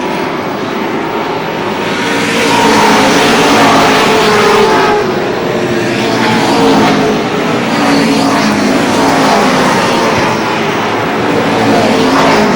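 Race cars coming out of the fourth turn at Lee Speedway in New Hampshire, a steady loud roar of engines with gentle swells as the pack passes, continuous throughout with no talk.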